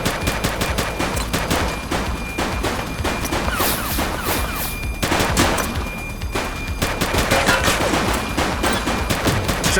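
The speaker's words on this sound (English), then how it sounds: "He's shooting!" Rapid gunfire from a police shooter video game fills the whole stretch, loud and continuous bursts over a dense game soundscape with no pauses for quiet.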